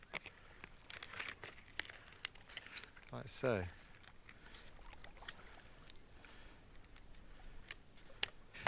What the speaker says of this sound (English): we shape the ends here with a pair of scissors